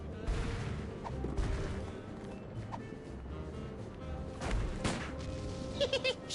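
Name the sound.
gunshots in the video game Sam & Max: The Devil's Playhouse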